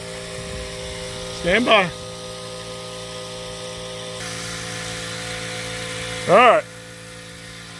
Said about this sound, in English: all I have to do is just grind that down